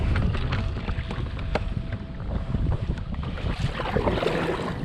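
Steady wind buffets a boat on open water during a search for a missing veteran's car, a continuous rushing roar with gusty microphone rumble and faint water wash, no talking.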